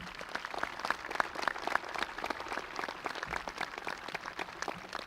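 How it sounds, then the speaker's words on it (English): Audience at a high school graduation ceremony applauding the graduates, many hands clapping in a dense, sustained patter, fairly faint and distant throughout. "Let's give them a round of applause."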